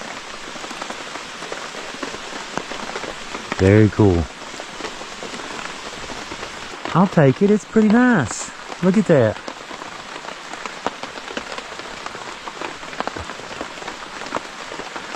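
Steady rain patters on a tent at a campsite in a continuous soft hiss, with someone speaking briefly a few times over it.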